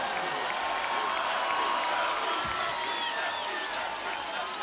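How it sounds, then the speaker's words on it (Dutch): Audience applause fills an awards ceremony hall, steady dense clapping mixed with crowd noise and some cheering throughout. "Dames en heren, applaus voor deze twee dames."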